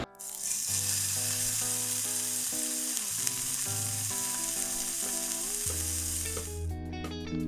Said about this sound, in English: Seared ahi tuna, guys.